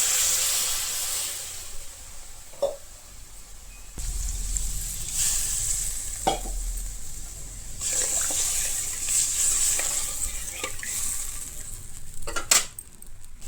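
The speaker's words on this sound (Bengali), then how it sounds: "এরপরে দিয়ে দেবো জল" Water goes into a sizzling tomato fish curry cooked with little oil and homemade garam masala, giving a steady hiss and bubbling with a few sharp clinks of a utensil against the pan.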